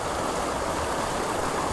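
A waterfall stream at Kolli Hills rushes in a steady, close, broadband wash of flowing water with no voices.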